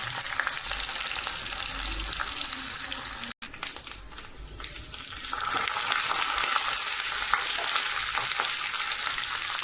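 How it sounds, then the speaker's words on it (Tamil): Small shallots fry in hot oil for a tempering to go into coriander chutney, a steady close sizzle and crackle that dips briefly partway through, then grows a little fuller. "ஸோ சின்ன வெங்காயம் நல்லா வந்து வதங்கட்டும்."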